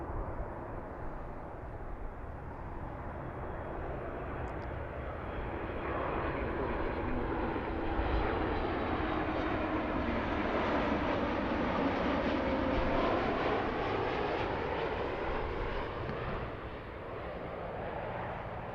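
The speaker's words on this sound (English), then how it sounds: "Try to get to the aircraft sounds too, because that's the cool part of this." Airplane arriving at Baltimore-Washington airport on a November morning, a loud continuous engine roar that swells and fades slowly with a descending whine, steady throughout with no voices.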